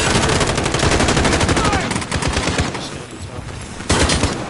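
Loud gunfire in the Call of Duty video game: rapid automatic bursts crackle almost nonstop, ease off briefly, then a fresh burst erupts near the end.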